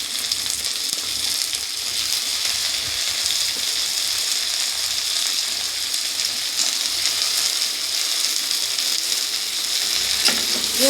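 Cut taro frying in a pan while it is stirred, a loud, dense sizzle that carries on steadily from up close, with soft stirring noises underneath.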